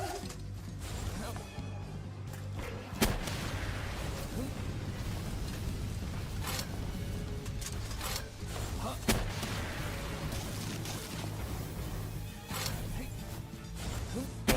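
Gunfire in the Palworld video game, repeated sharp shots at irregular intervals over a dense, continuous backdrop of game noise and rumble.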